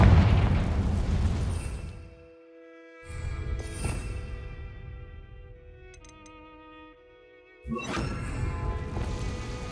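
A Confringo fire spell explodes in Hogwarts Legacy with heavy booming bursts, twice or more, loud and close, separated by a quieter stretch of tonal game sound.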